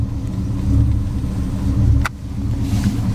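Steady low engine rumble of a cold-idling dually pickup truck, close and even, with a brief sharp click partway through.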